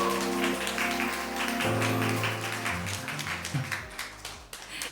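An audience at the first official Outerplane user meetup in Korea applauds in a dense, continuous patter of clapping, with loud music playing over it for the whole stretch.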